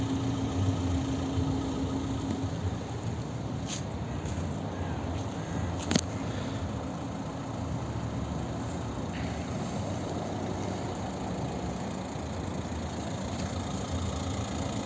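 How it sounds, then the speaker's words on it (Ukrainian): A 2017 Renault Megane IV with a 1.5 dCi diesel engine and automatic gearbox idles with a steady, even drone for the whole stretch, with no talking. "двигун ідеально працює"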